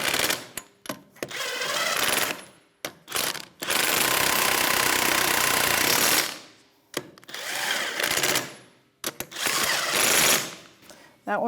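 Lug nuts on a 2013-2018 Toyota RAV4 being run down with a 21mm socket on a power tool, several whirring bursts of rattling spin separated by pauses, close and loud.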